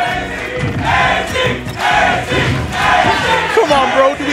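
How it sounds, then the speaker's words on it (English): A crowd at a Super Smash Bros. esports tournament chants and cheers loudly in a big hall. Many voices roar together in a continuous rhythmic swell that fills the space. "So the crowd making a lot of noise right now for Skylar"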